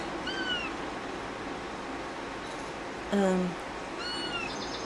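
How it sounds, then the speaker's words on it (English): Several short, high kitten meows come and go over steady background noise, with one louder, longer mew near the middle. "those are my mom's new kittens that you hear meowing."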